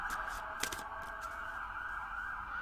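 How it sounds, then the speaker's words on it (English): An ambulance siren wails steadily and high-pitched from a distance, with a brief faint honk or knock partway through. "Maybe that was the ambulance. That sounded different."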